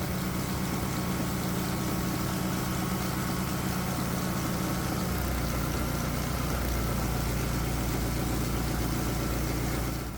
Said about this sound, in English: So with the engine running, and right now it's under a medium load